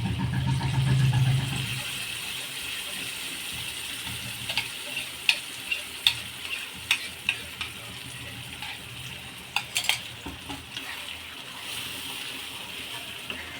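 Ground onion-tomato masala paste fries in hot oil for a gravy, a steady soft sizzle with a series of sharp spoon taps and scrapes against the pan as it is stirred.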